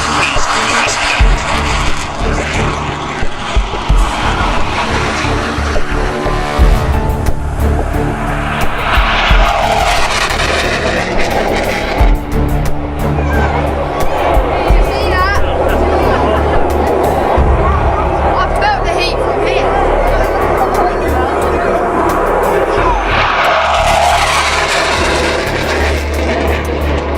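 Scorpion F3 jet fighters roar loud and continuous during an air show display at Biggin Hill, the engine noise swelling and fading as they pass, with voices over a public address in the background.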